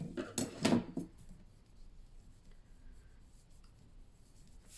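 A paper fold line being rubbed firmly to crease it on a mini album purse project, a few quick scraping strokes loud at the start, then quiet room tone.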